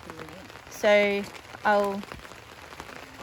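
Rain falls at a cold creekside campground, a soft steady patter on surfaces under the voices of people talking close by in two short bursts.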